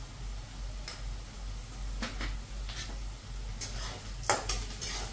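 Chopped onions frying in oil in a pan with a little salt, a soft steady sizzle under occasional scrapes and clicks of a spoon stirring against the metal.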